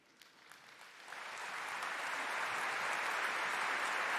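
Keynote audience at a Web Summit breaks into applause, starting with a few scattered claps and swelling within a second into loud, sustained clapping that holds steady to the end.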